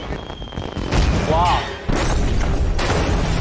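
A deep boom and crashing rumble as a large structure blows apart, loud and continuous, with a person's exclamation over it and more commotion after.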